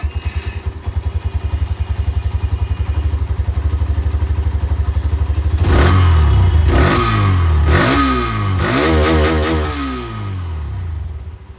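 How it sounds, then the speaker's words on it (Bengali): Hero Xtreme 125R motorcycle idling with a steady low exhaust thrum, then revved hard several times in quick bursts, each rise loud and close before falling back to idle. "চলুন তবে আমি আপনাদেরকে তিনটে বাইকের এখানে যে এক্সস্ট সাউন্ড শুনিয়ে দিই"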